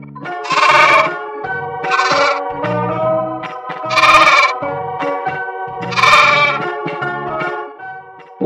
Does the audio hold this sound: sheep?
yes